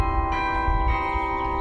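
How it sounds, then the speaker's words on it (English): Carillon bells ringing from a tower of 65 bells, ranging from a 20-pound treble to a 12,000-pound bourdon, sounding as sustained, overlapping tones that hum and ring continuously without voices. "So a carillon is a keyboard instrument, and it plays bells."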